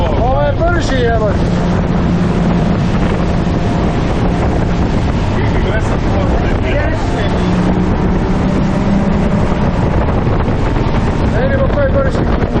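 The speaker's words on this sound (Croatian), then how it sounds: "Ovo ima unutarnji motor. Ovo je brži, evo." A fast motorboat with an inboard motor runs at speed on open water in the Kornati islands, its loud engine drone mixed with wind buffeting and splashing as people talk over it.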